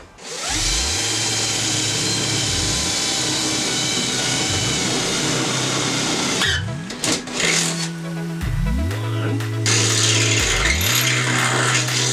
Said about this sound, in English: So I just need to drill a hole to there.